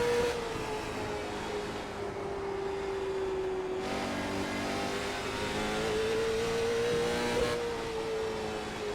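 Race car engine in the iRacing video game during a late model stock race at Hickory Motor Speedway, holding a steady loud drone with pitch rising and falling through gear shifts and throttle changes, alone and continuous.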